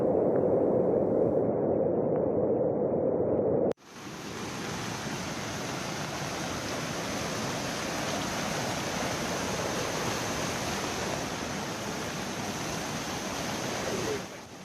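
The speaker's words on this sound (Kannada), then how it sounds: "ನೀರು ಹರಿಯುವ ರಭಸಕ್ಕೆ ಪ್ರತಿಯೊಂದು ಕೂಡ ಕೊಚ್ಚಿಕೊಂಡು ಹೋಗ್ತಾ ಇದೆ." Rushing floodwater after the Wayanad landslide in Kerala, a loud, steady broadband roar that cuts in abruptly after a few seconds and holds continuously to the end, with no voices over it.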